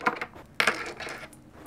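Dice rolled and clattering on a hard surface: a few quick, close rattling bursts followed by a longer tumbling clatter that trails off, with no talking.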